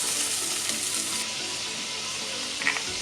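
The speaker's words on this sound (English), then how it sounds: "get the oil all over the carrots and give them a bit of a fry off" Chopped carrots and celery fry in oil in a pan, giving a soft, steady sizzle that carries on unbroken throughout.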